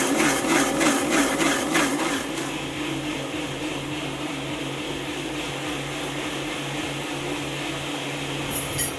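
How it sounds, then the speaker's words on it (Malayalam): A kitchen mixer grinder whirs steadily while grinding soaked rice into batter for unniyappam, a loud continuous motor drone with a slightly rougher churning start, running alone without talk. "ഇതാ നമ്മൾ മിക്സിയിൽ വെച്ച അരി നല്ലോണം അരഞ്ഞിട്ടുണ്ട്"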